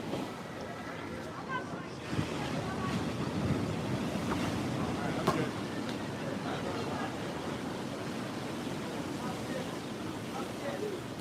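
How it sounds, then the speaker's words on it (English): Steady roar of ocean surf with waves washing in, mixed with wind buffeting the microphone; a voice speaks briefly. "Are you listening to the waves?"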